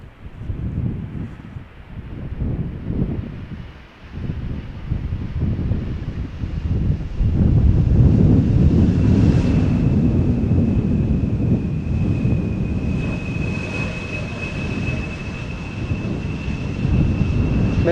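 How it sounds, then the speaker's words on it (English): A KLM Embraer 175 lands in gusty crosswind at Schiphol Airport, a heavy, steady engine roar that swells and holds, with a thin whine rising over it and wind buffeting the microphone throughout. "KLM flight 1174, Embraer 175 arriving from Stavanger"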